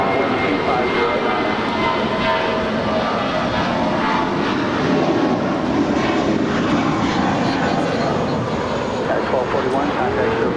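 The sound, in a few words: jet airliner engines at Los Angeles LAX airport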